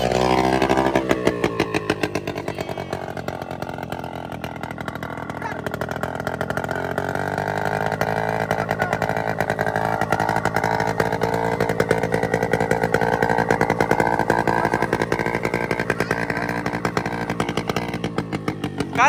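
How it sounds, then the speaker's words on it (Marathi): A tractor engine chugs steadily as it is driven home along a village road, a loud close mechanical drone with a fast rattling pulse that holds level throughout, no voices over it. "आता परत आपल्या घराकडे हा ट्रॅक्टर घरी घेऊन चाललो आपण."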